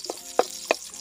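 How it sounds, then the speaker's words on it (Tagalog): Garlic sautéing in a hot pan for pork and chicken adobo, heard as three short separate bursts of sizzling and stirring, fairly near and moderate in loudness, with no voices. "gisa tayo ng bawang"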